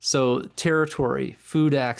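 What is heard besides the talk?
None of the usual background noises is heard.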